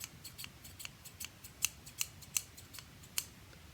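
Scissors with a blunt tip snip through four layers of fabric in a quick series of crisp, close cuts, several sharper and louder than the rest, with no talking.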